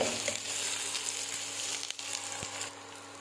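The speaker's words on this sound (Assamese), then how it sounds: "পিঁয়াজখিনি অকণমান সময় মই ভাজি ল'ম।" Onions fry in oil with a steady, soft sizzle and occasional crackles, a constant hiss heard up close with no talking.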